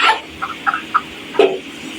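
A few short, separate clucks from nearby broiler chickens on a poultry farm, spaced irregularly over a quiet background.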